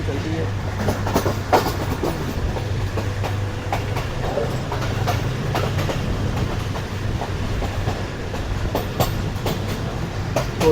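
A crowded Subak Raftar railcar runs steadily, its engine hum and wheel clatter continuous and close, with rhythmic clicks over the rail joints and no talk.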